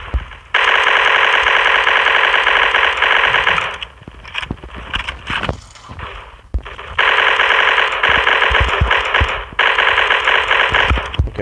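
Rapid automatic gunfire from the Block Strike video game rattles in two long, loud sustained bursts separated by a brief gap of scattered shots and noise.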